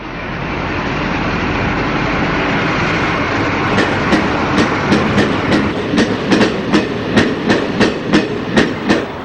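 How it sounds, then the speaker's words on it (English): Class 44 diesel locomotive 44-006 hauls a mixed train near Peterborough, its engine drone rising as wagons pass with loud rhythmic clickety-clack wheel beats on the rails, close and alone. "44-006 approaches Peterborough with a similar mixed train in July 1975"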